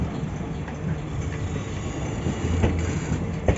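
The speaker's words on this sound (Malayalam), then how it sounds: "പുറപ്പെടുന്ന നമ്മുടെ തൃശ്ശൂർ ഗുരുവായൂർ പാസഞ്ചറാട്ടോ" The Thrissur–Guruvayur passenger train departs, a steady rumbling roll of carriages and wheels at moderate loudness, with a few faint clunks toward the end.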